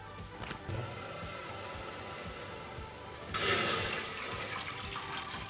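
Running water splashes steadily into a metal pot to wet it before making paneer, growing louder and brighter partway through, with no voices.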